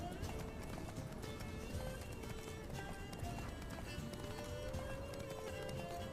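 Steady rhythmic hoofbeats of a galloping horse in The Witcher 3 continue throughout, set against a busy, dense game soundscape with music-like tones.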